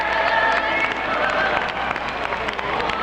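A large crowd of about 20,000 in an election night hall cheers and applauds Jimmy Carter's arrival in 1976, a dense, steady roar of clapping and voices filling the space with no break.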